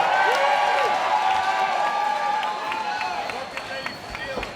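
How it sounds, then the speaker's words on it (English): A crowd at the SteelFist 89 fight event applauds and cheers for a fighter after his win, a broad continuous roar filling the venue beneath a voice talking over a microphone. "let me give a round of applause for Dylan Bolot"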